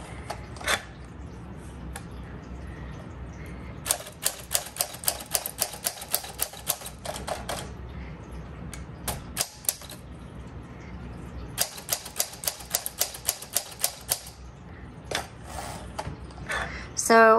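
Typing on a 1946 Smith Corona Speedline typewriter, two long runs of sharp, rapid key strikes close up, with scattered single clacks and a louder carriage sound at the end, and a voice talking in places.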